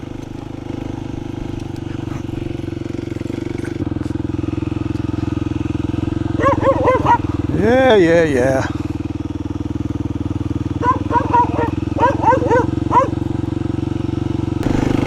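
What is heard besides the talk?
motorcycle riding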